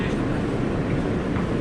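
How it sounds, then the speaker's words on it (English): Steady low rumble of a Coney Island–Stillwell Avenue bound F local subway train on the IND Culver Line, heard from on board as a continuous broadband roar with no distinct events. "This is a Coney Island, Stillwell Avenue bound F local train"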